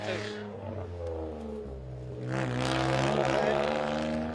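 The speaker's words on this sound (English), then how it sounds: "Winning the prize for the loudest exhaust of the day." Rally car with a very loud exhaust at a junior spring rally, the engine droning and revving up with a rising harmonic roar that swells and holds, heard close with voices talking over it.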